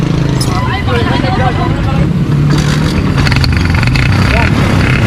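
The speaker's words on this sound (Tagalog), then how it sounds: "I-start mo yung makina. Paanda rin mo hanggang 4 gear." A motorcycle with a broken chain is started and revved near its owner, its engine rumbling steadily and loudly under overlapping talk from people nearby.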